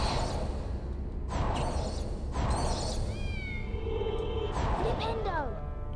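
Cat meows from the Harry Potter and the Sorcerer's Stone video game, several short rising calls over a steady game soundscape of whooshes and ambience, with a voice talking throughout.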